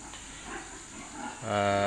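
Pigs at a piggery beside a resort: a steady background hum, then one loud, drawn-out, tonal animal call in the last half second.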